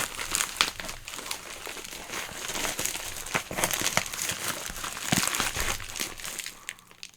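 A taped AliExpress mail package is pulled open by hand, with continuous close crinkling and crumpling of plastic and tape, punctuated by sharp rips and tears throughout.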